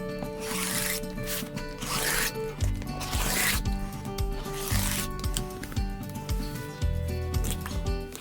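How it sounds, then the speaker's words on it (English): A rotary blade cuts through folded quilting fabric on a mat, several rasping, ripping strokes with soft thuds and shifting of cloth between passes, close and moderately loud with no speech. "I have my background fabric folded in half so that I can cut 2 layers at a time"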